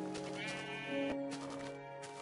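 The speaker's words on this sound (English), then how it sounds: "That sheep is stuck." Sheep bleating in the Minecraft video game, with a short wavering bleat rising in the middle of a quiet, tonal background.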